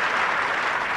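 Tennis crowd at the 2004 Indian Wells final bursts into steady, dense applause, a close, continuous wash of clapping with no voices over it.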